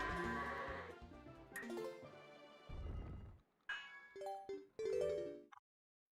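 Goat bleats from the Twilight Princess HD video game, a run of bright, wavering game-audio cries and chiming tones in separate bursts, fairly faint and ending abruptly.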